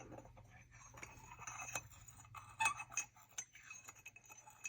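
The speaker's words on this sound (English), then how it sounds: "stir it up." A spoon stirs sugar into coffee in a glass, making faint, irregular clinks and taps against the glass over a low background hum.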